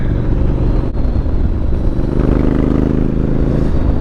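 A Honda Africa Twin CRF1100L motorcycle is being ridden, and its engine drones steadily at a close, constant level. Road and wind noise blend into the sound, and no one speaks.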